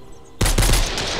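Loud burst of rapid gunfire from the survival video game Mist Survival erupts after a quiet lead-in, shots blurring into a dense, sustained volley with no talking.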